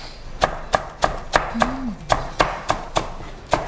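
A knife chops garlic chives on a cutting board in about a dozen sharp, evenly spaced thuds, close and clear, with a brief faint tonal sound in the middle.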